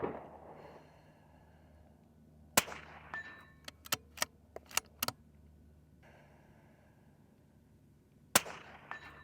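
Rimfire rifle shots in positional practice: a sharp crack, then a quick cluster of several shots, then one more crack after a pause, heard over quiet background.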